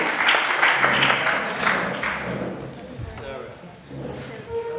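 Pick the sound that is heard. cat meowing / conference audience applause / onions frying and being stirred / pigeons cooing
conference audience applause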